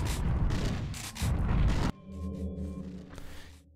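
Explosion in the video game SS2 Polaris, a loud dense burst of noise lasting nearly two seconds that cuts off abruptly into quieter humming game tones.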